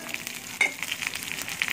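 Red chillies, cumin, onion and curry leaves sizzling in hot oil for a dal tempering, a steady close crackling fry with a sharp spatter burst partway through, no voices.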